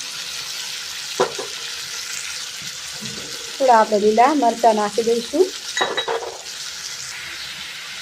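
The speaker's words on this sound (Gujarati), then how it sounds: "હવે આપણે ચમચાની મદદથી આને સરસ રીતે સાંતળી લેવાનું છે" Tomatoes, curry leaves and onion sautéing in oil are stirred with a spoon, bringing scraping and clinking against the pan over a steady sizzle, while a person talks over the cooking in the middle.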